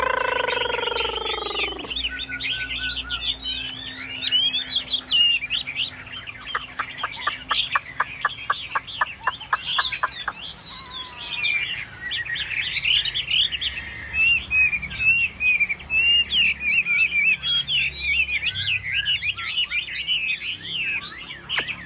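Tam hoàng songbird kept in a cage, singing a long, varied, high warbling song with rapid trills and repeated chirps, close and clear throughout, no talk.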